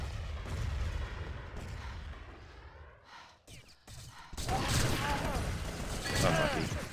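Counter-Strike grenade blast: a muffled rumble and mechanical clatter give way to a loud, sustained burst of explosive noise and debris, heard close over game ambience.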